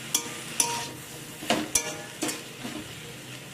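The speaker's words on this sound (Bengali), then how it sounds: "এখন এটাকে একটু তুলে নিচ্ছি, আবার একটু নাড়াচাড়া করে দেব।" Kalmi greens sizzle in a pan as a spatula lifts and turns them, producing several sharp scraping knocks over a continuous low frying hiss, with no voices.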